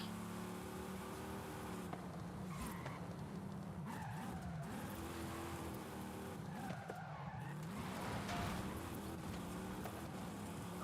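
In the Forza Horizon 5 racing game, a car drives at speed with repeated tire skids and squeals over a steady engine hum, heard fairly quietly and without talk.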